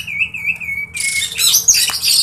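An oriental magpie-robin (kacer) calls with a clear whistled note, then bursts into a loud, busy run of squawks and chirps, close to the listener with no talk.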